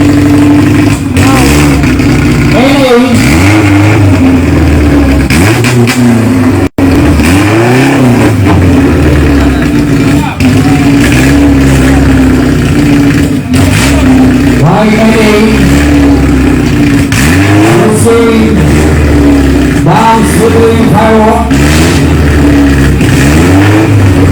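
Drag race cars at the Jakabaring Sport City strip accelerate and rev hard, loud close engine roars rising and falling repeatedly across the whole stretch, with voices in the background.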